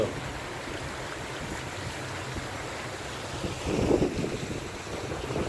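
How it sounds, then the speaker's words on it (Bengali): Water rushes like a small waterfall through a paddy field with bamboo fish traps and nets, a continuous close rushing hiss that swells briefly toward the end. "ঝর্ণার মতো জলের শব্দ"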